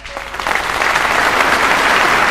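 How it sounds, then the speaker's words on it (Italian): A studio audience at a televised karaoke show breaks into applause for a singer walking on, the clapping swelling within the first half second into a dense, loud, sustained roar with no talking. "Applauso, eccolo qua."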